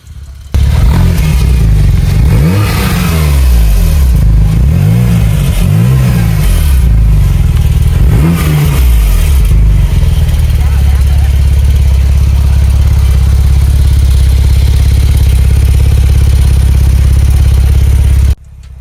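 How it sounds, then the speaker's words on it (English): A loud 3.8-liter turbocharged flat-six engine of a Porsche 911 991 Turbo S close by revs up several times in rising sweeps, then settles into a steady, throaty idle that runs until an abrupt stop. "As the engine roars to life, the exhaust notes echo through the air"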